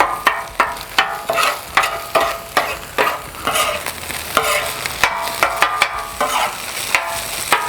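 Rice frying on a flat-top Blackstone griddle for backyard hibachi, with loud rhythmic scraping and tossing of a spatula over a steady sizzle, strokes coming roughly every half second without speech.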